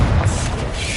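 A Confringo fire spell blast in the Hogwarts Legacy video game, a single heavy, loud booming explosion with a low rumbling thud that fades quickly.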